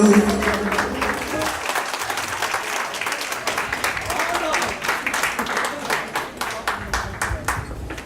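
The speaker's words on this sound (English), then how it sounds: "Give them a warm applause, please." Wedding reception guests applauding the couple, a sustained crowd clapping that is steady and moderately loud, with individual claps growing more distinct and rhythmic toward the end and some voices mixed in.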